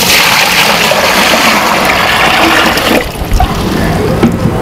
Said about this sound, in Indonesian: So first kita masukkan dulu 5 liter air.